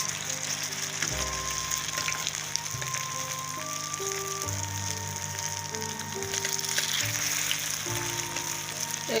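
Goat intestine kebabs frying in a pan after being flipped, a continuous close sizzle with crackle, overlaid by steady mechanical whirring tones that shift pitch, no talk.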